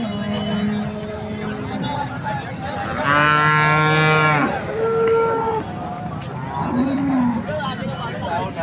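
A Jersey cow moos loudly once, a long harmonic low, with other farm animal calls and murmuring voices around it at a livestock market in Vadgaon, Kolhapur district, India.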